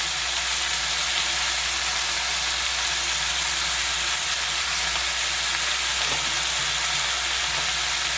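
Chicken sautéing in a pan with turmeric and a little Kashmiri chili powder gives a dense, continuous close sizzle that holds steady throughout, with faint stirring knocks near the end.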